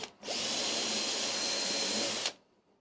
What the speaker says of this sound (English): So we'll drill a hole